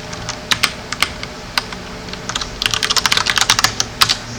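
Keys clatter on a computer keyboard in bursts of typing, sparse taps at first and then a quicker run of close, crisp keystrokes, with no voices.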